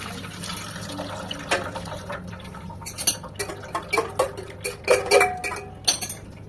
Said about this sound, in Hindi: जो ये नीचे पानी निकल रहा है पनीर का